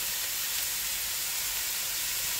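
Onions and garlic sautéing on high heat in a pan while preparing a crab fry, giving a steady, unbroken sizzling hiss throughout, fairly soft and close, with no voices over it.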